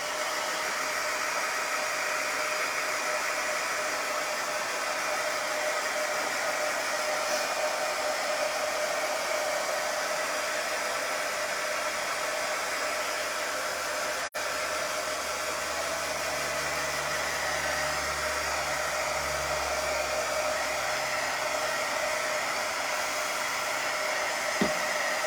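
A hair dryer blowing air over a sports quotes plaque, a constant loud whooshing hiss that runs unbroken for the whole stretch, with a faint low hum entering partway through.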